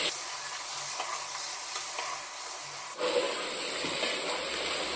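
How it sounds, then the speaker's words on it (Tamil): Chicken chukka with coriander leaves being stirred in a hot pan: a continuous sizzle and scraping stir, close and steady, with the frying hiss brightening partway through. "சிக்கன் கூட நல்லா கலந்து விட்டுருவோம்."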